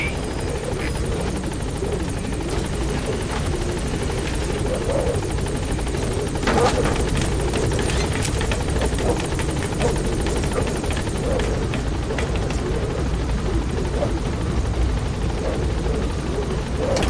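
Pequod helicopter from Metal Gear Solid V hovering over a landing zone, a steady loud rotor roar and engine drone holding throughout with faint rustling underneath.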